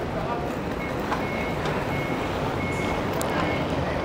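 A truck backing up on a street in an industrial area of Tsuen Wan, Hong Kong, sounds repeated evenly spaced reversing beeps over a constant roar of nearby traffic and engines, with faint voices in the background.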